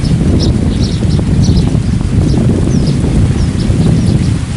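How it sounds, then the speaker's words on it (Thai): Strong wind buffets the microphone in a steady, loud roar, with faint bird chirps in the background and no talking. "ลมแรงมากๆเลยนะ เสียงเสียงลมอาจจะ ดังนิดนึงนะครับ"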